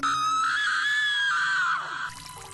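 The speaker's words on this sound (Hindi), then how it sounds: "और तब बहुत ही ज़ोर से जेनेट ने एक चीख लगाई।" A woman lets out one loud, sustained scream in a Hindi radio drama adaptation of The Woman in Black, close and piercing for about two seconds before breaking off into faint background sound.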